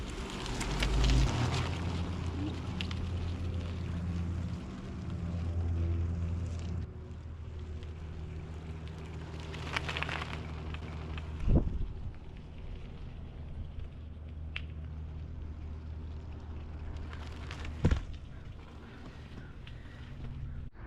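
A swap-meet bike is ridden, giving a steady low engine drone with rushing wind buffeting the microphone and a couple of brief thumps along the way.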